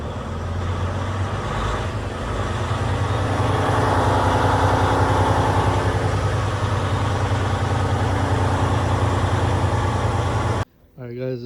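Detroit DD15 diesel truck engine running and revved to around 1500 rpm after fuel pump priming, with a loud, steady rumble held for about ten seconds before it cuts off abruptly.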